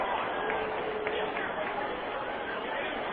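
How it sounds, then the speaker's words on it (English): A crowd fills the stands at a 2006 minor-league baseball game between the Salt Lake Bees and the Sacramento River Cats, producing a steady, lively murmur of chatter that holds at an even level throughout. "Nice crowd, good energy to the crowd tonight."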